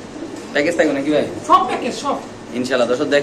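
A pair of pigeons at a Bangladeshi pigeon seller's coos in short throaty bursts, close by and mixed under someone talking.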